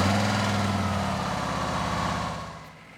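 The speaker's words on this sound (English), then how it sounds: "So we'll put it in neutral, start the bike." A 2024 Harley-Davidson Road Glide motorcycle engine runs at a steady low idle with a deep, even throb. It stays loud and close, then tapers off toward the end.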